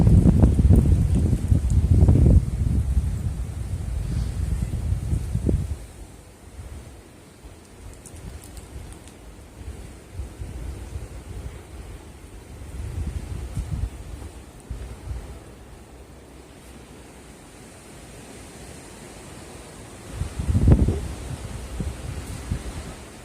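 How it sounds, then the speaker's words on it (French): Violent westerly wind gusts near 94 km/h in Nîmes buffet a microphone with a heavy, roaring rumble at first, ease to a low steady rush, then surge briefly again near the end. "Là, c'est des rafales d'ouest."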